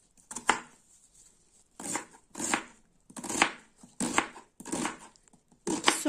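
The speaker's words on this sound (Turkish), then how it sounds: "İki soğanı da doğrayalım." Knife chopping two large onions on a board, steady bursts of rapid cutting strokes repeated about every second, close and fairly quiet with no talking.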